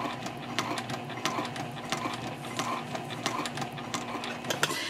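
A domestic sewing machine stitches along the gusset edge of a bowler bag, its needle ticking in a quick, steady mechanical run with small ratcheting clicks, close and continuous without any talk.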